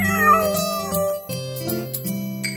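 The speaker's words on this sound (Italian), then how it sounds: "Guarda che gattino birbante!" A cartoon kitten meows within an animated Italian children's nursery song, the short cries riding over continuous bright music and singing.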